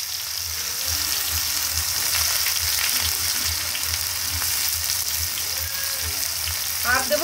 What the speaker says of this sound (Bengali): সব কিছু নেড়ে চেড়ে একটু লাল লাল করে ভেজে নেব